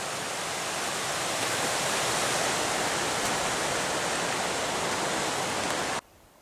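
A small river flows in a steady, dense rush of water, close and continuous, then cuts off abruptly near the end.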